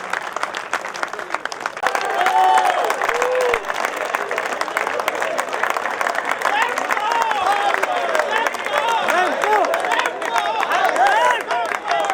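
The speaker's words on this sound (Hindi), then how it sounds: "आप जोरदार तालियों से इस्तकबाल।" Sustained, loud audience applause fills a mushaira poetry gathering at Sir Shah Sulaiman Hall in Aligarh, dense clapping running steadily throughout with voices mixed in.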